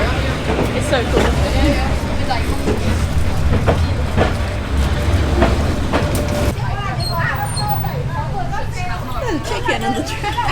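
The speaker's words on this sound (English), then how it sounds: "Train's coming." Train rolling through a crowded street in Hanoi, a steady low rumble and rattle of railcars passing close by, with people chattering and calling out over it.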